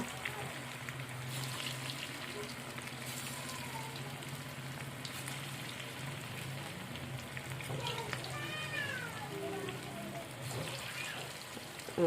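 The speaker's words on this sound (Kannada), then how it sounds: "ಇವಾಗ ಚೆಂದಾಗಿ ಎಣ್ಣೆಗೆ ಫ್ರೈ ಮಾಡ್ಕೋಬೇಕ್ರಿ" Fresh kebab pieces frying in hot oil at home, a continuous close crackle and sizzle running throughout, fairly quiet, with occasional faint clatters.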